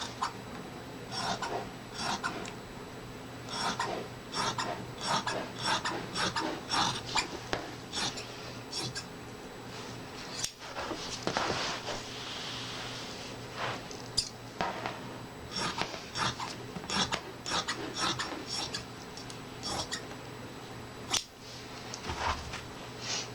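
Scissors cutting fabric for a cowl, a run of quick crisp snips in irregular bursts, close and fairly quiet, with a brief pause midway.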